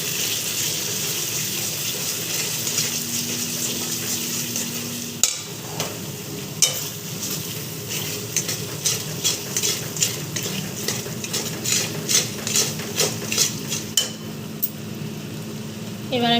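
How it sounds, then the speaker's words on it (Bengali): Ground spices with cumin powder and salt stirred in a hot pan, with a steady low sizzle under repeated spoon scrapes and metallic clinks that grow quicker and denser toward the end. "এবার আমি সমস্ত মশলা ভালো করে কষাবো"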